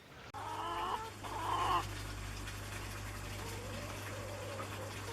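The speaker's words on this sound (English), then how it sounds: "Bloody noisy birds." A few loud squawking clucks from nearby backyard farm fowl near the start, over a constant low mechanical hum that continues to the end.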